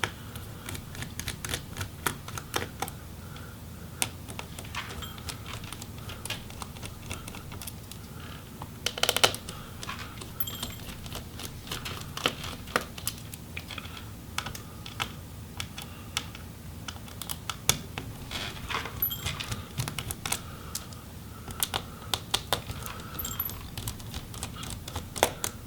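Small Torx screws come out of the underside of a MacBook Air A1466 (2015) laptop one by one, leaving faint scattered clicks and light metallic ticks against a low steady background hum, with no talking.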